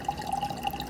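Water draining through a Durso standpipe in a 150-gallon bedroom aquarium, a steady soft trickling and gurgling with a faint high tone, close and continuous.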